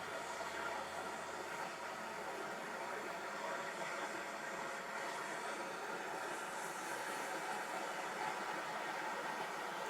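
Compressed air blasting steadily through motorcycle exhaust pipes in a workshop, a continuous loud broadband hiss lasting throughout with no pauses.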